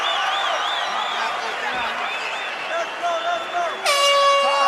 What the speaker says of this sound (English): So the horn sounds on the first flyweight fight in UFC history